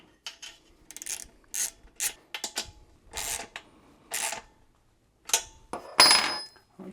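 Metallic ratcheting and clinking comes in short separate bursts as a bolt and nut fasten a rubber foot onto a VEVOR 6.3 gallon air compressor, close and with quiet gaps between.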